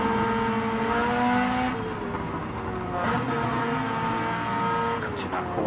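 A DTM race car screams through a corner in a racing video game, its high engine note sustained and shifting with gear changes, tires scrabbling on sand as it drifts.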